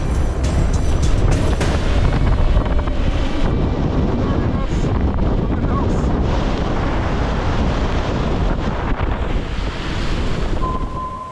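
Strong wind roars across the microphone while heavy waves surge around a sailboat at sea off the coast of Norway in building stormy weather, loud and continuous with no pauses.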